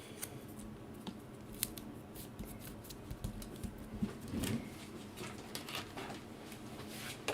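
Scissors snip through cardstock for a spooky gravestone treat box, a steady run of small, close, fairly quiet crisp cuts and rustles over faint background.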